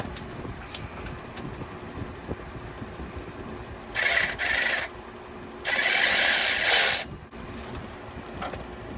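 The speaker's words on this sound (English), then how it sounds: "I'm gonna cheat a little and use my ratchet" A hand ratchet turns a bolt on the belt tensioner of a 2010-2013 Acura ZDX in two rapid, buzzing clicking runs, the second longer, over a steady background hiss.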